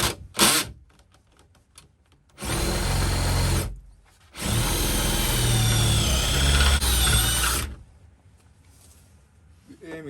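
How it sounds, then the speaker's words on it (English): A step drill bores through metal in a campervan bulkhead build on an Iveco Daily, two loud sustained whining bursts separated by a short pause, with a few clicks around them. "step drill"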